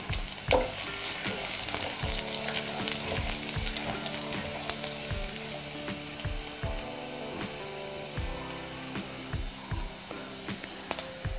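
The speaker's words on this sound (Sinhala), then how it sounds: "අබ ටික හොඳට රත් වුණාට පස්සේ පොඩිවට කපාගත්ත සුදු ලුණු ටිකත් එකතු කරනවා." Chopped garlic frying with mustard seeds in a hot pan, a steady close sizzle with crackling pops and occasional scraping stirs throughout, no voices.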